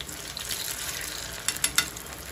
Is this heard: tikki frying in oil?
yes